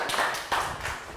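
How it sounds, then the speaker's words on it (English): A Year 3 maths class gives a short round of clapping in the classroom, a brief scatter of a few nearby claps. "And round of applause for let go and net."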